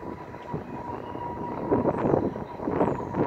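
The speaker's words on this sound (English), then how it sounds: "There's the plane that's making noise." An aircraft passes overhead somewhere outside, its steady broadband roar swelling gradually in loudness, with no one speaking.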